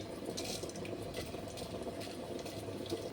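Hing, dried chilli and whole cumin sizzle in hot oil mixed with a little ghee, a soft, steady crackling hiss with faint bubbling pops, heard close and quiet with no talk.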